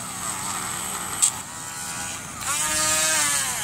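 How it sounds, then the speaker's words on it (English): Dremel rotary tool working on a wet megalodon fossil tooth, giving a steady high-pitched electric whine that shifts pitch as the bit presses in and rises toward the end, close and loud with no talking. "the Dremel works pretty good for kind of getting in there"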